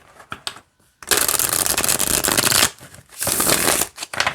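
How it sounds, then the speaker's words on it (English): Two bursts of rapid tarot card shuffling, a dense papery riffle lasting a second or two each, with light handling taps in between. "let's see how this shuffles, and we'll pull a card"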